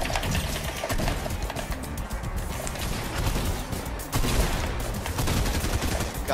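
Dense, continuous gunfire from a video game duos match, with overlapping rapid shots and crashing impacts that barely let up and surge again near the end.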